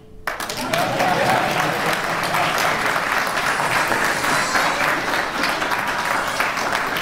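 A large crowd at a military promotion ceremony applauds steadily for several seconds, dense sustained clapping filling the room.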